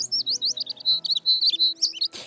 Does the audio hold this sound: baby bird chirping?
yes